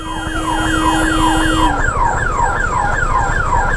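Ambulance siren wailing in a repeating up-and-down sweep, loud and close, stuck in a traffic jam on a North Bengal road between Siliguri and Charkhole, with a steady alarm-like tone fading out partway and traffic rumble underneath.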